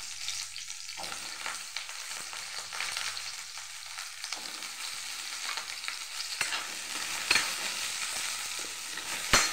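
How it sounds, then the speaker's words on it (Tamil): Small onions fry in a pan of hot oil for a spice paste in a baby jackfruit curry, making a continuous crackling sizzle with occasional sharp stirring clicks and scrapes, close and fairly quiet. "சின்ன வெங்காயத்தை போட்டு நல்லா வதக்கி"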